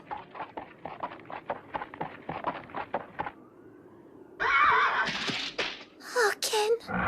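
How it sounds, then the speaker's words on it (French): A horse named Kokuo whinnies, with a run of fairly loud, rhythmic vocal bursts in the first half, then brighter, louder calls near the end over a steady background. "Ce cheval, je le connais."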